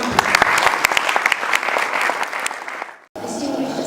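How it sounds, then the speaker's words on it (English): Audience applause welcomes Madam Bindu Suresh Chettur, president of the Indian Business and Professional Council, at a gathering in Dubai. Dense clapping runs steadily for about three seconds, cuts off abruptly, then a softer room murmur resumes. "please join me to welcome our President, Madam Bindu Suresh Chettur, to address the gathering. Give a round of applause."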